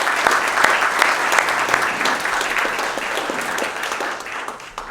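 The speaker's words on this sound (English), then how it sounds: "Let's give them all a big round of applause." A large audience at a civic event gives loud, sustained applause to the sponsors, a thick wash of clapping that holds steady throughout.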